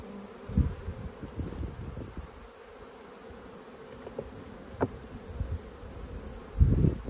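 Honey bees, including gold-coloured Italian bees, drone around an open hive in a continuous near buzz, with a few sharper swells as single bees fly close by; no one speaks.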